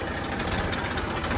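A tractor engine idles close by with a steady, rumbling, slightly knocking drone that holds an even level throughout.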